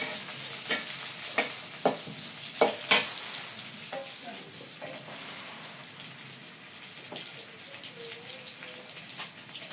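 Chopped onion hits hot oil for a dal tempering and fries with a steady close sizzle, while a spoon scrapes and taps the pot several times.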